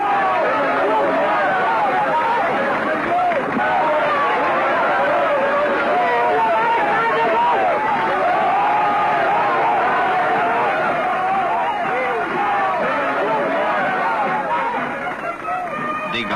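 A large outdoor crowd greets a general with continuous cheering, clapping and babble of voices, a dense sustained roar that stays loud throughout.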